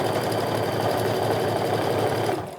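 A sewing machine runs steadily and close while stitching a tote bag, a continuous fast rattling whir that eases off at the very end.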